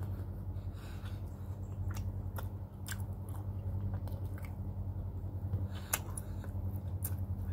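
Chewing mouthfuls of pork and fried tofu (tokwa't baboy) close to the mic, with soft wet crunches and smacks scattered over a steady low background hum.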